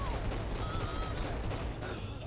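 Rapid bursts of gunfire in Saints Row 4 crackle in a dense, steady volley, with faint voices mixed into the noisy game soundtrack.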